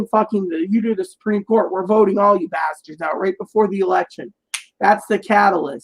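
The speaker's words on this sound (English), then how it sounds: "I'm snapping my fingers when I say that" Finger snaps from someone speaking heatedly about politics, short sharp clicks mixed in with his continuous nearby talk.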